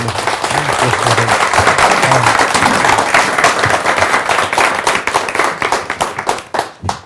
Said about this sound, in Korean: 여러분들 박수로 환영해 주시기 바랍니다